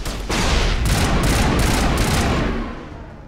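Gunfire in Mass Effect Legendary: a loud, sustained burst of rapid shots, several sharp cracks rising above a dense roar, close and alone for about two seconds before tailing off.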